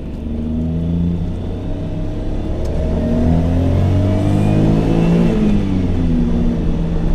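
A 1992 Mazda Autozam AZ-1 with a screamy small engine revs up and holds high, a loud, close, rising whine that climbs and falls in steps, with no voices.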